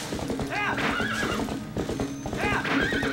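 A horse in Zelda: Twilight Princess gallops with rapid rhythmic hoofbeats while neighing loudly twice, the whinnies rising over the steady pounding, with talk in the background.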